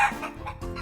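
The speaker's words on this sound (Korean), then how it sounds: "암탉과 수탉." A hen and a rooster cluck in a brief, close burst of two or three quick clucks.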